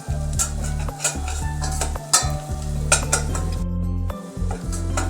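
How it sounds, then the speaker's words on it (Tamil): Ginger and garlic sautéing in a pan while an egg drop soup is being made, with steady spatula stirring, scraping and clinks of utensil on metal over a continuous low sizzle; no talking. "இஞ்சியும் பூண்டு நல்லா வதங்கிடுச்சு."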